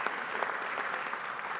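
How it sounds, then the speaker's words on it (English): An audience at a business talk claps steadily, a dense, even wash of applause from a seated crowd, fairly close, with no voices. "Give him a round of applause."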